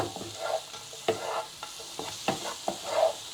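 Fish stir-fried in a pan with raw garlic and chili, a close, steady sizzle broken by repeated scraping and clacking strokes of the stirring utensil, with no speech.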